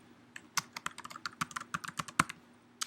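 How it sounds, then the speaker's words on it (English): Rapid, uneven bursts of keystrokes on a computer keyboard, close and crisp, about a dozen taps in a few seconds with no talking. "if I type in Jackson"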